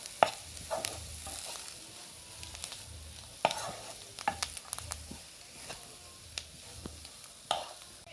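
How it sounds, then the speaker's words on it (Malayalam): Spinach curry being stirred in a pan, with a soft sizzle underneath and irregular scraping, tapping strokes of a spoon against the pan, close and quiet, no talk. "നന്നായിട്ട് ഇളക്കി മറക്കാം കേട്ടോ."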